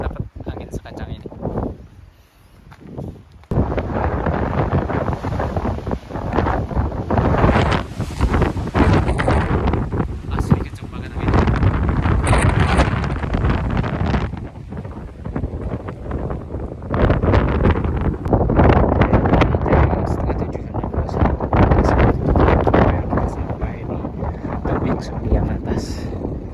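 Strong mountain wind on Mount Papandayan, in cold conditions after rain, roars loudly and continuously against the microphone in heavy buffeting gusts, with a brief lull near the start.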